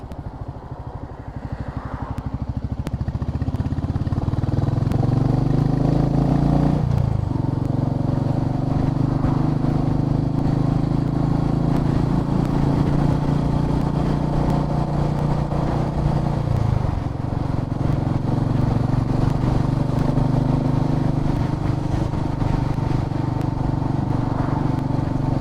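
Royal Enfield Meteor 350cc motorcycle ridden along a road, its engine droning loud and steady throughout, with a couple of shifts in pitch as it changes gear and wind rushing past.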